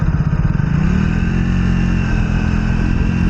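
A Triumph Speed 400 motorcycle engine pulls hard in third gear, its loud, close drone rising in pitch over the first second and then holding a steady, strong tone.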